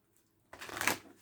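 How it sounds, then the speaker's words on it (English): A brief riffle of cards being shuffled, a quick papery flutter after a moment of near silence. "Let's give it a shuffle."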